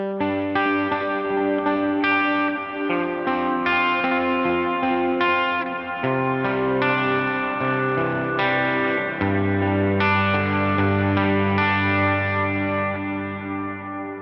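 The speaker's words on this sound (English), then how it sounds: "So we get this nice long trail sound that's nice and full" Electric guitar playing sustained chords and notes through a Line 6 Helix with a long, full reverb decay trail, loud and continuous, each change washing into the lingering tail, no voices.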